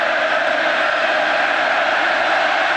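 Steady, dense roar from a college football stadium crowd at Southern Miss versus Texas A&M, a continuous wash of noise with no breaks or clear voices.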